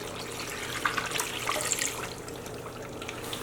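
Four cups of water pour into an Instant Pot of chicken vegetable soup, a continuous gentle splashing and trickling heard close and fairly quiet, with small bright drips on top.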